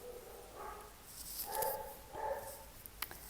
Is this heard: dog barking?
yes